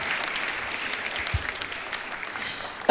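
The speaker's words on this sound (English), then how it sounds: "Go ahead to clap" Audience applause at a Smart Stewards 10th anniversary summit, a steady patter of clapping from a crowd held at an even level throughout, fairly close, with no talk over it.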